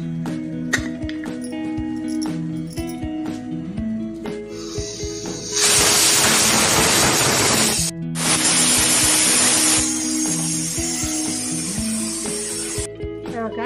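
A pressure cooker boiling raw mangoes in water lets out two long, loud, steady hissing whistle blasts, the second longer than the first, over quieter background music.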